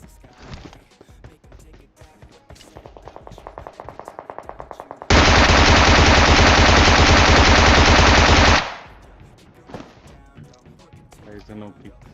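A Bizon submachine gun fires in a shooter video game, first in rapid bursts, then one long sustained loud burst lasting several seconds, with scattered shots and game sounds around it and a voice talking over it.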